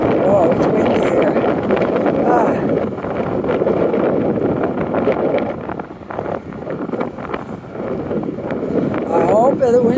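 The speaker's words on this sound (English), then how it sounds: "Oh, it's windy here." Wind gusting across a walking trail between Westphal Plaza and Portland Street, buffeting the microphone in loud, rough, continuous rumbles that ease briefly in the middle, with someone talking over it.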